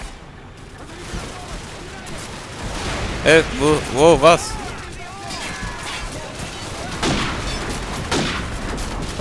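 Gunfire and explosions rumble in a Call of Duty 4: Modern Warfare combat scene, with a few sharp bursts among a constant battle din. Voices speak briefly over the noise.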